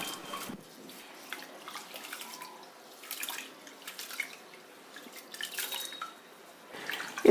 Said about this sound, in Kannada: ಇದನ್ನೆಲ್ಲ ಇವಾಗ ನೀರು ಹಾಕಿ ಚೆನ್ನಾಗಿ ತೊಳಿಬೇಕು.